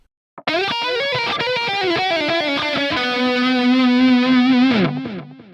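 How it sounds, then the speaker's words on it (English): A distorted electric guitar plays a quick harmonic minor lick with bent notes and an Egyptian-sounding flavor, from a guitar solo, ending on a long sustained note that fades out. "that really cool harmonic minor lick, which gives it that Egyptian sound"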